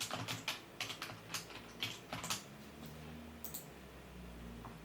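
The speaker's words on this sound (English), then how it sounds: "Hit the add text button and you can type in whatever you want." Computer keyboard being typed on, giving a quick run of light, crisp key clicks in irregular bursts, then a few scattered taps, close and fairly quiet.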